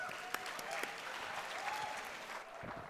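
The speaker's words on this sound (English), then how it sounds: "Without further ado, give a huge round of applause for Ayush Lakhotia." Audience at a student conference applauding a speaker who is being welcomed to the stage, a steady, moderately distant patter of many hands with a few sharper claps and faint voices underneath.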